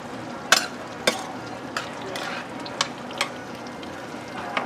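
A spoon stirs shrimp and rice in a sizzling pan, with a soft steady fry underneath and several distinct scraping clacks spaced about half a second apart.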